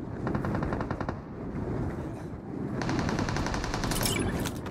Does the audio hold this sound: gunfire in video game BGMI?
yes